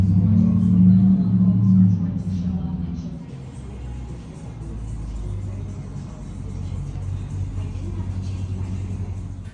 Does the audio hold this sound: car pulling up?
yes